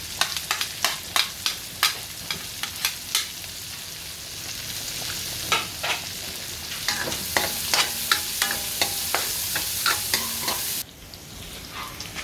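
Onion frying in a pan for pasta carbonara, steady close sizzling with rhythmic scraping stir strokes throughout, the sizzle dropping abruptly near the end.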